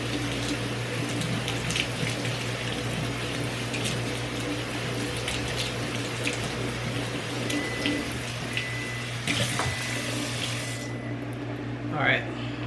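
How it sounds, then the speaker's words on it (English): Water running steadily from a tap while ackee is rinsed in a kitchen, a continuous hiss with faint splashes, with a person talking over it. "It don't smell like anything, but I'm going to rinse it off."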